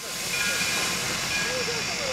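J. Neils Lumber Company Shay No. 5, a geared steam locomotive, hisses steadily as it rolls along the main line, with a broad continuous steam rush and faint whistle-like tones above it, no voices.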